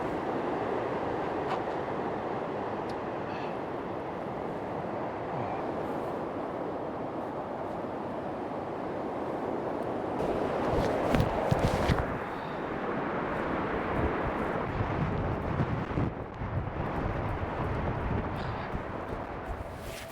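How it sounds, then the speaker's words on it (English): Wind blows steadily at a wild camping spot in a broad rushing roar, strengthening midway with heavy gusts thumping against the microphone. "That's windy, finally."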